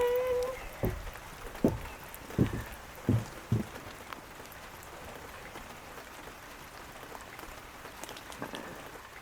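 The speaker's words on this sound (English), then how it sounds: "It's properly raining now." Rain falls on a front porch, a faint steady patter broken by several louder close drips and knocks in the first few seconds, then a soft even wash with no talk.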